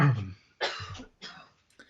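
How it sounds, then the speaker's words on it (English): Three short, sharp bursts of throat noise, like a person coughing, separated by brief pauses and heard up close. "Cough, cough."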